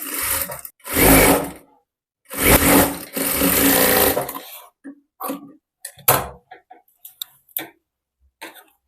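A sewing machine stitches a waistband strip onto a long designer blouse, in three close, loud bursts of rapid whirring, then sparse light clicks and handling noises.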